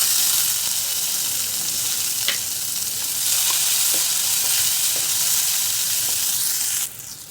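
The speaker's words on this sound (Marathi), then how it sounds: "परतला एक छोटा टोमॅटो घालायचा" A small tomato sautés in a hot pan, giving a loud, steady sizzle and crackle with a few light stirring clicks, then the sizzle drops off near the end.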